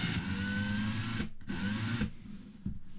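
A Ryobi cordless drill runs at speed with a steady whine, stops briefly, spins up again, then winds down near the end, close and clear.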